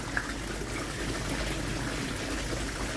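Water pours steadily out of a garden pond filter, a constant close gushing splash that stays even throughout.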